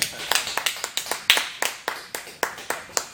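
Audience at a comedy show clapping in a steady run of separate, sharp claps, fairly close and alone with no talk over it.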